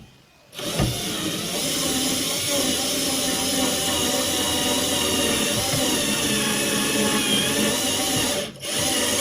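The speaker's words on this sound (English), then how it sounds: "So we'll drill until this step and then we will stop." A power drill with a step bit cuts a 16 mm hole into a distribution box enclosure, whining steadily and loudly for about eight seconds before a brief pause and restart.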